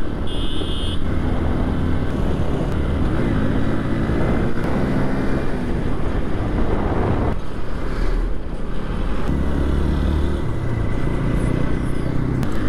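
A 2023 special edition TVS Apache RTR 160 4V motorcycle rides past, its engine a steady low drone blended with heavy wind rush that stays loud from start to finish, with no talking.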